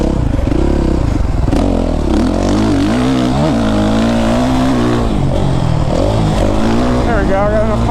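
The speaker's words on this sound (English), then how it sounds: "Just that chain like scares me. The sound honestly worries me that something's going wrong" Suzuki RMZ450 dirt bike engine revving and pulling hard on a first ride, with a rattling drive chain clattering under the loud, fluctuating engine note throughout.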